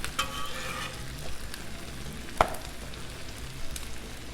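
A cheeseburger quesadilla sizzles steadily on a Blackstone griddle, with a sharp spatula clack as it is flipped midway and the frying hiss continuing around it.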